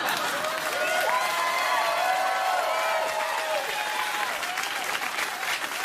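Studio audience on a late-night talk show bursting into applause, dense continuous clapping with some cheering, loud and close, holding steady for several seconds before easing slightly.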